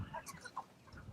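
Chickens in a chicken tractor on a farm give a few faint, scattered clucks and short calls within a second.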